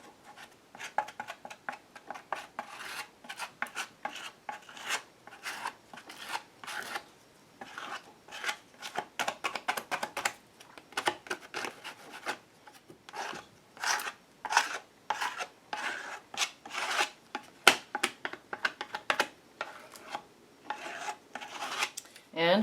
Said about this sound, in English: I'm going to put some green gold at the bottom and work that up with my credit card